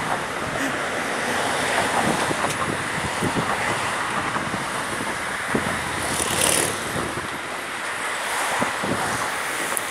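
Car traffic crossing Brisbane's Story Bridge makes a steady, continuous roar with heavy wind buffeting the microphone and no clear break.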